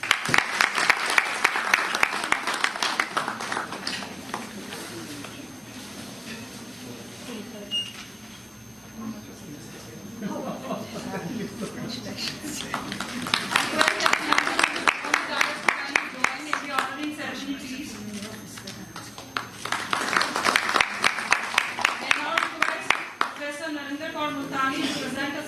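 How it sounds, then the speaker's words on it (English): Audience applause for the chief guest at a live education conference, crisp rhythmic clapping from a hall that rises in several waves, with an announcer speaking between and over the bursts. "A big round of applause for Professor Pankaj Arora"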